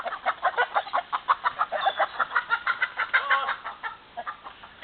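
Rooster and hens in a yard, a steady run of clucking and squawking calls, close and fairly loud with a busy rhythm throughout, no clear crow.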